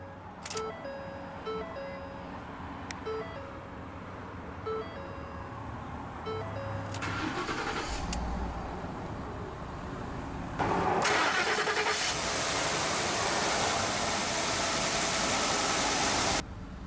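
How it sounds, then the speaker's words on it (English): A 2013 Ford F-150 Lariat SuperCrew 4WD with a 5.0-liter Coyote V8 is started from inside the cab. Chimes sound first, then the starter whirs, and the engine catches and settles into a loud, steady idle. "let's go ahead and start the engine of this truck, which is the 5-liter Coyote V8"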